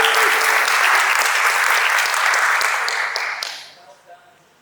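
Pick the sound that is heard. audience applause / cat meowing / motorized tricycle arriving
audience applause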